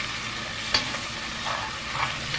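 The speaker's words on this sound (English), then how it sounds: "we're going to add our onion to this Dutch oven pot. And just kind of stir those around in there." Onions stirred and sizzling in a Dutch oven pot after beef tips were browned, a constant frying hiss broken by a sharp clack and a few soft scrapes of the spoon against the pot.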